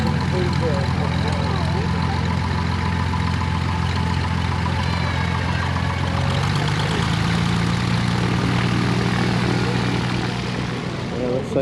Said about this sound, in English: This guy's just coming in for a landing.